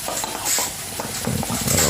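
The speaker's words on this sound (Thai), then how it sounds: "แล้วก็คนเลยครับ ผมอย่าพยายามอย่าให้ข้าวติดกระทะนะครับ" Fried rice with pork being stirred and scraped around a hot wok, with steady sizzling and repeated clattering strokes of a spatula against the metal.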